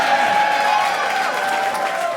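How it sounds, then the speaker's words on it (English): Crowd applause from a Juneteenth stage show audience in Brooklyn, a steady wash of clapping and cheering that stays loud and even throughout the brief moment. "Y'all not gonna clap for that?"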